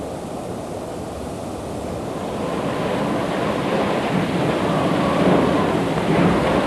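Stormy sea off Antarctica roars with crashing waves and strong wind, a dense continuous rush that builds slightly louder, with no voices.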